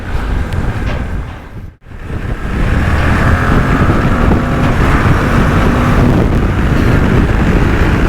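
A Suzuki V-Strom DL800DE middleweight adventure motorcycle accelerating to overtake, with a steady loud engine drone and heavy wind rush over the microphone that briefly dips near the start, then swells and holds.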